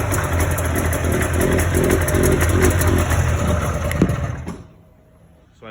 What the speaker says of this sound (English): I tried revving it and it wouldn't rev.